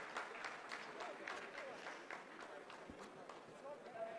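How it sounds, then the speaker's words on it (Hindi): Scientists applaud during the Chandrayaan-3 lunar landing, a dense, continuous ripple of clapping from a room full of people, moderately distant and steady, with faint voices mixed in. "आप इस तालियों के गड़गड़ाहट को सुन सकते हैं"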